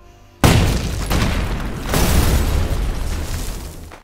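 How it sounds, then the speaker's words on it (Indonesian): A sudden loud blast blows open a safe in a heist film, with a sharp onset followed by a heavy rumbling roar and debris that swells again before fading out after a few seconds. "Chang pun segera meledakkan berangkas tanpa diketahui oleh pihak kepolisian di luar"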